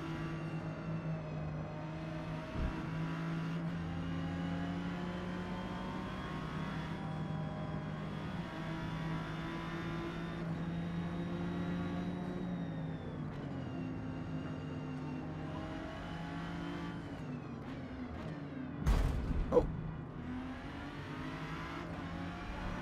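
Race car engine in the Forza Motorsport video game, a Super Sixes combustion race with a Supra, a steady droning whine with shifting pitch as it revs, and a brief sharp burst near the end.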